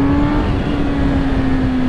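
A 2022 Suzuki Katana motorcycle engine held at a loud, steady high rev, close by and droning without pause, with no talking.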